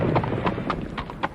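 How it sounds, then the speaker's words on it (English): Racehorses gallop in a flat race, with rapid rhythmic hoofbeats close and loud over a busy crowd-like background, a quick pounding pattern of four or five strikes. "Nijinsky now forging ahead from Meadowville, and it's Nijinsky going away from Meadowville."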